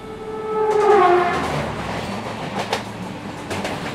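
Long-distance train passing with a horn blast early on, then rolling wagons and rail clatter continuing steadily at moderate loudness, with no talk.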